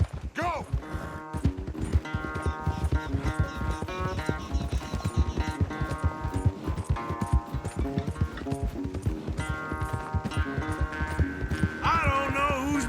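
Horses gallop in a race in Red Dead Redemption 2, their hooves pounding in a fast, continuous clip-clop rhythm up close while voices talk over the hoofbeats.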